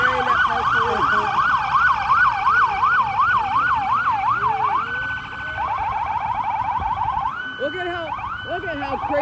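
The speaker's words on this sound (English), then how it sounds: "Man, their sirens are really loud." Police car sirens from Crestwood and Marionette Park police vehicles blare during an Independence Day parade in Blue Island, loud wailing sweeps shifting to rapid yelp patterns, with crowd noise and some talk underneath.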